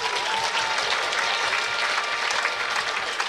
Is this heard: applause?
yes